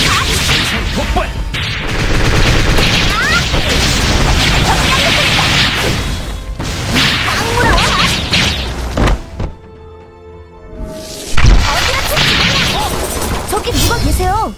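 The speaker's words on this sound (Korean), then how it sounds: "폭발!" Explosions and gunfire in the Korean online action game Closers, a loud continuous barrage of booms, crashes and swooshes with a brief quiet gap before another heavy hit, voices mixed in.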